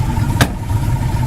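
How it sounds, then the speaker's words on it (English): A 1965 Pontiac GTO Convertible tribute's passenger-side door shuts with a single brief, solid thump over the steady hum of the idling engine. "Door shuts nice and easy, lines up well."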